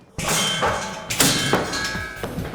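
A hammer struck hard in a test, its head cracking off, heard as a loud metallic clang followed by a couple more ringing clanks and thuds that decay over about two seconds.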